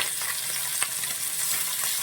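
Masala-coated fish frying in a pan and being flipped, a steady loud sizzle of hot oil throughout with a brief sharper crackle midway as the pieces turn.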